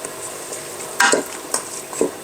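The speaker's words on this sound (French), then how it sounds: "je suis en train de faire revenir champignons, oignons, tranquillement" Mushrooms and onions, including frozen onions, being stirred in a frying pan during home batch cooking, a soft steady sizzle broken by a few sharp scrapes of a utensil against the pan.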